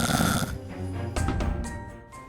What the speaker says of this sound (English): As the sleepy fox and cat began to snore loudly,